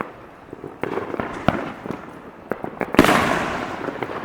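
4th of July fireworks burst in a string of sharp cracks and pops, with a louder booming volley near the end, heard outdoors at moderate distance.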